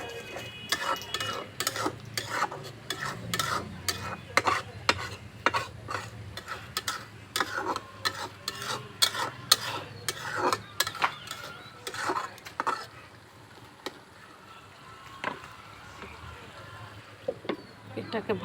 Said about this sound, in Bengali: এই যে আমি এখন এটাকে নাড়াচাড়া দিব ভালো মতো।